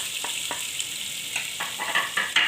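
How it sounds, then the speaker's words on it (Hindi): Garlic and ginger paste fries in hot oil for dhaba-style chana dal, a steady crackling sizzle with a few soft stirring scrapes and bursts toward the end, close up and without speech. "तो अच्छी तरह से भून लेंगे।"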